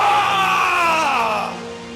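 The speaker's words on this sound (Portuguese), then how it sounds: "às vezes dá pra ouvir alguns gritos e até mesmo pessoas chorando lá no fundo" Screams and crying from an old audio recording on a mysterious website: loud, wavering, distorted voices that wail with rising and falling pitch and then slowly trail off.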